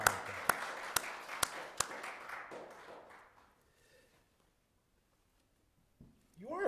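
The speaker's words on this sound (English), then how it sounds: "He deserves a round of applause." A few sharp, separate claps from a congregation at a Shabbat evening service ring out near and moderately loud, then fade into a quiet room with faint murmurs.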